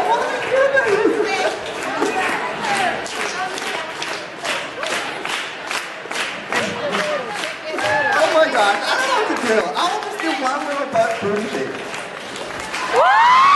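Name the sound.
people clapping hands to a beat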